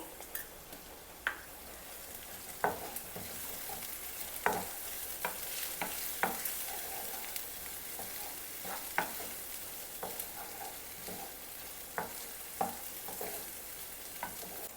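Onion and ginger paste frying in a pan for a prawn curry, a steady low sizzle broken by scattered sharp clicks and scrapes of stirring throughout, with no voices.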